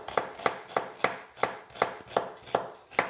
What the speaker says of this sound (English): I'm just going to rely on my sharp knife